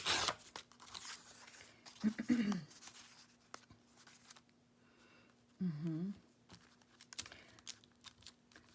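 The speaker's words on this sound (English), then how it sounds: "I think I'm going to just tear and make a background out of this" Paper being torn by hand to make a background for a Christmas tag, short ripping bursts heard close up, with quiet handling and rustling between them and no talking.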